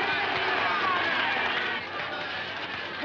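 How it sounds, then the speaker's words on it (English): Crowd at a travelling road show waiting for a lion-taming act, a loud, steady babble of many voices and cheering that fills the whole stretch, dipping slightly near the end. "What a crowd."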